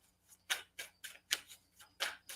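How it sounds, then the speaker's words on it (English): Crickets chirping outdoors at night, loud and close, in repeated bright bursts roughly every half second over a quiet background. "Yeah, the crickets are out here. They're really, really loud."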